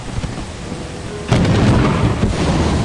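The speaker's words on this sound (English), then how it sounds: "It's raining." Thunderstorm with rain in the video game Lethal Company: steady rain hiss, then a sudden loud thunder crack that rolls into a heavy rumble lasting to the end.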